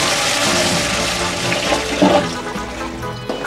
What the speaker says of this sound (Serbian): Onda lepo zavrnete plavu slavinu ovako.